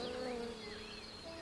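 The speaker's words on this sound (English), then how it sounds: "Hey, Buzz, stop buzzing in my ears." An insect, a bee or wasp, buzzes close to the ear with a steady, wavering drone throughout, fairly loud and alone with no talk.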